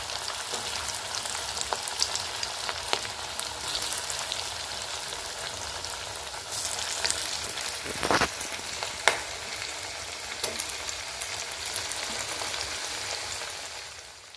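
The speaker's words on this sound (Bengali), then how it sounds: "আমার মেয়েই ভাজছে বন্ধুটা।" Battered leafy green pakoras frying in hot oil give a steady, close, dense sizzle with crackling throughout, and a few sharper pops and spatters stand out near the middle.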